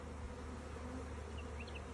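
Honeybees buzzing around package beehives just after installation at a farm; a steady, dense buzz of many insects, close and continuous with no talking.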